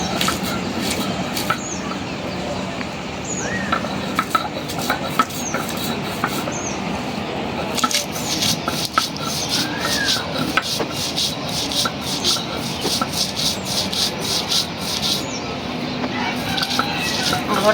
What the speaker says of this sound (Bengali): প্রথমে চিংড়ি শুটকিটা বাটবো এই জন্য নিছি শুকনামরিচ ভাজা লবণ